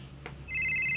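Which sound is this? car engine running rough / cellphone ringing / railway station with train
cellphone ringing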